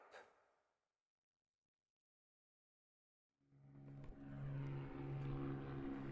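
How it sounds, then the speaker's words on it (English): A small two-seater propeller aircraft in flight: after a stretch of near silence, a steady droning engine hum fades in and holds at a moderate level. "You're flying a small propeller aircraft."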